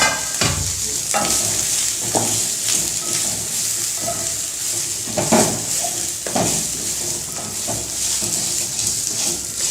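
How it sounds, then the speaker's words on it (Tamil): Tomato, coconut and mint being sautéed and stirred in a pan for a chutney, a steady sizzle with repeated scraping strokes of a spoon at close range, no talk. "இப்போ இதெல்லாம் ஒரு தடவை வதக்கிட்டு ஆஃப் பண்ணிக்கலாம்."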